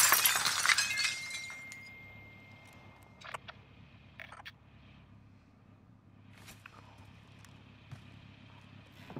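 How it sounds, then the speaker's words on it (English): Glass shatters loudly at the start in Call of Duty: Modern Warfare, a bright crash of breaking shards. Scattered tinkles and footstep-like clicks follow, then a quiet low hum. "I'm about to break a glass"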